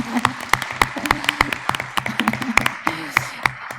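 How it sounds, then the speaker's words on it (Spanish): A small audience at a scientific talk on tumor immunotherapy claps for an award winner, sparse distinct handclaps close by and irregular, with a faint voice underneath. "Un aplauso para Saraí."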